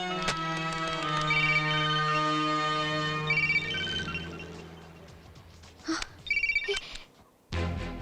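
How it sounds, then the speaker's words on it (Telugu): A melodic phone ringtone plays loud and close with sustained tones, then breaks into choppy bursts toward the end. "ఇది సాధారణమైన రింగ్ టోన్ కాదు సార్."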